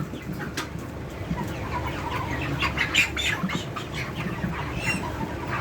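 Broiler Ross chicken, about 40 days old, flapping its wings during weighing, giving bursts of wingbeats and squawks and clucks against a busy background of other birds.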